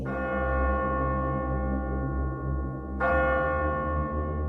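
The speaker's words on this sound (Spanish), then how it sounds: "La campana repicó una vez más fuerte." A large bell rings out loudly, struck once at the start and again a few seconds later. Each strike leaves a rich, long-decaying tone, with no voices over it.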